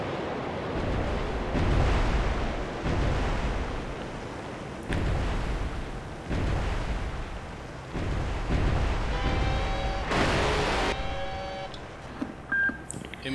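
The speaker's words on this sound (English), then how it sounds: "Fire missile." In the submarine game Cold Waters, missiles fire with repeated loud roaring whooshes and rumbling bursts, several in a row, accompanied by electronic beeping tones near the end.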